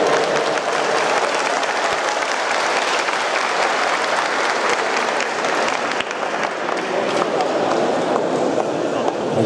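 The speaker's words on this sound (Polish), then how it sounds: "wielkie brawa" A crowd at a bodybuilding competition for disabled athletes gives loud, sustained applause that fills the whole stretch, dense and steady, with a voice faintly heard beneath it.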